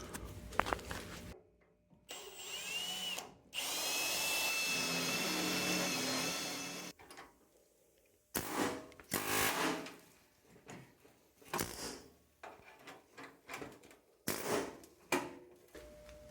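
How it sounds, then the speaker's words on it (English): Air hammer popping spot welds loose on a rusty car core support, sounding as loud bursts of rattling metal impacts with pauses between, the longest run lasting several seconds. "I just went up and popped the rest of them with that air hammer"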